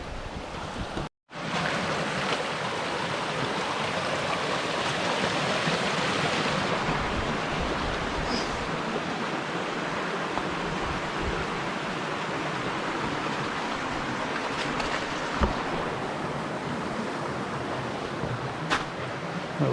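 Rushing stream water in the Wichita Mountains at Zebra Rock Cascades, a steady broadband wash of flowing water that stays loud and close throughout, with a brief dropout near the start.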